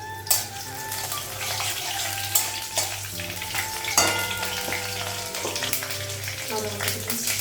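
Green chillies and panch phoron fry in hot oil in a wok, giving a steady close sizzle with occasional stirring scrapes and knocks, over a low constant hum.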